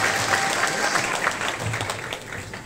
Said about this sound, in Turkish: Ahmet Bey'e de alkışlarla teşekkür ediyoruz.